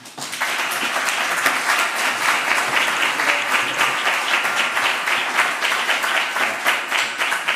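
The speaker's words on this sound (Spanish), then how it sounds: "Pido un gran aplauso para el ministro" Steady, loud applause from an audience at a public lecture on jihadism in Spain greets the minister Fernando Grande-Marlaska, dense clapping continuing evenly for several seconds.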